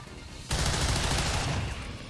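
A soldier's rifle fire in the turn-based strategy game XCOM 2, a sudden loud burst of rapid shots that rings out and fades over about a second and a half.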